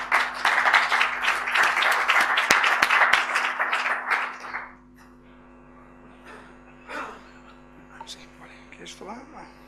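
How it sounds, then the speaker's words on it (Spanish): Warm applause welcoming a speaker at a citizen participation conference, several seconds of clapping that dies away abruptly, followed by quiet room tone with faint movement and murmurs. "Te animamos con un aplauso."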